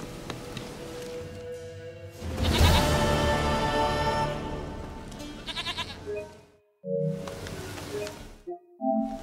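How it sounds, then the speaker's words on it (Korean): A goat bleats in the video game The Witcher 3: Wild Hunt, giving several wavering calls amid in-game ambience, with loud rustling and clatter partway through and a short pause before more bleats at the end. "사랑스러운 나의 염소."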